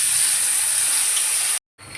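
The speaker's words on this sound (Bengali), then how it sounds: "ভালোভাবে একটু এগুলোকে তেলের মধ্যে ভেজে নেব" Onion, green chilli and ginger paste sizzle loudly in hot oil left from frying katla fish, tempered with black cumin; a dense, close hiss cuts out for a moment and then resumes.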